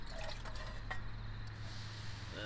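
About 250 ml of water is poured into a small container for a stove boil test, giving a faint, soft trickle and splash over a low steady hum, with no talking.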